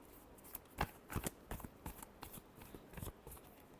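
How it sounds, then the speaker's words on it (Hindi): A deck of tarot cards being shuffled by hand in short, crisp riffling bursts, about a dozen quick flutters spread irregularly across the stretch, close and fairly quiet with no talking. "Last shuffle."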